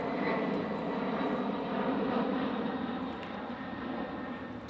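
An airplane passes overhead as a steady, broad engine roar, moderately loud throughout and easing slightly toward the end.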